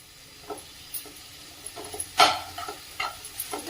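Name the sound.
sautéing peas, cabbage and tomato in ghee on a tava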